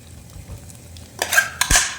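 Potato 65 masala stir-frying in a pan with a little oil, a quiet lead-in followed by a few close, sharp scrapes and clatters of a spoon against the pan.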